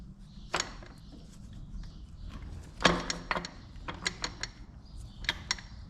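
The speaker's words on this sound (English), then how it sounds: "All right, let's get the governor on." Metal parts clunk and click intermittently as a governor is fitted onto a Detroit 2-53 diesel engine, with scattered close, sharp mechanical taps and one louder knock amid quiet workshop background.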